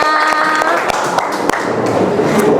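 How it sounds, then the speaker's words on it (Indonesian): Students in a classroom clap their hands on cue, giving sharp, uneven claps and thuds close by, with some voices underneath. "tepuk tangan semuanya"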